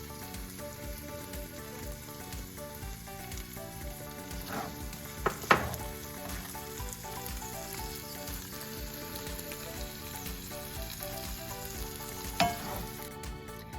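Vegetables fry in a pan with a faint, steady crackling sizzle, with a few louder clicks and scrapes scattered through.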